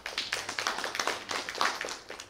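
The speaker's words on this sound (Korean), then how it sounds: "박수 부탁드립니다." A small audience at an academic symposium on Korea-China history claps to welcome a discussant, producing a short, fairly close patter of hand claps that fades at the end.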